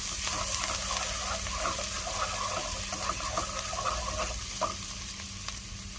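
Garlic and ginger sizzle in hot sesame and olive oil for a shrimp stir fry, a steady crackling hiss with light scraping as they are stirred, close and continuous without speech.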